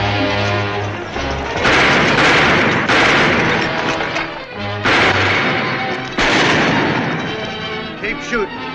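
Heavy gunfire in a western radio drama about Wyatt Earp, loud and continuous with repeated booming shots and echoing blasts, with a voice briefly heard amid the barrage.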